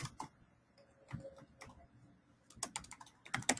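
Fingers tap out a name on a computer keyboard in short bursts of quick, crisp keystrokes with pauses between them, close and fairly quiet, with no voices.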